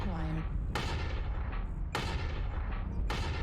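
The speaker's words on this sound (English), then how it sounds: "we see a sniper and we start shooting." Mech weapons firing in MechWarrior Online, heavy booming shots repeating roughly every second over a constant loud engine rumble, each blast ringing and decaying, with voices underneath.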